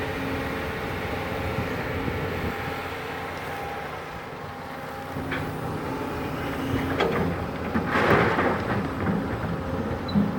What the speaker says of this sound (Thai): รู้สึกว่าโซ่จะดังครับ